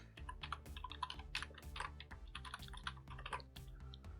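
Computer keyboard typing out Python code, a rapid, steady patter of close key clicks with no talk over it.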